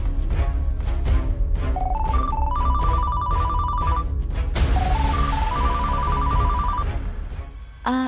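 Telephone ringtone playing a rising melodic phrase that repeats twice, loud and close, over steady low background noise with no talk.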